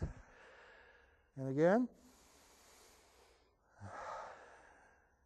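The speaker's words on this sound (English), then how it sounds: "nice full breath and blow out" A deep exhale blown out during a seniors' strength-training exercise, a broad breathy rush near the mic after a brief voiced sound, with short speech before and after.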